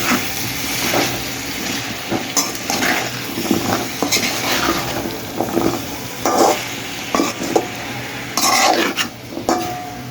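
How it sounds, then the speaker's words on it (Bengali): Vegetables sizzling and sautéing in a pan, with frequent spatula scrapes and clinks of metal against the pan over a steady frying hiss, close and moderately loud, no talking. "এগুলো আমি একটু কষিয়ে নেব।"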